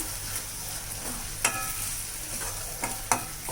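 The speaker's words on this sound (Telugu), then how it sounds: "దీంట్లో కరివేపాకు వేసుకున్నామండి. ఇంకా వేగాలి, బాగా వేగిపోయాక." Curry leaves frying in a pan of oil, a steady soft sizzle broken by a few sharp crackles and spoon taps, close and without any talk.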